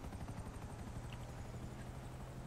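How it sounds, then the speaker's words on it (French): A support helicopter in GTA 5 Online gives a steady, continuous rotor drone with a low thudding beat. It holds at a constant moderate level throughout, with no voices. "C'est un hélico de soutien que j'ai appelé."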